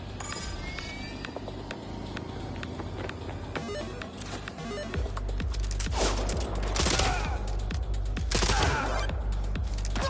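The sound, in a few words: three-round burst gunfire in a video game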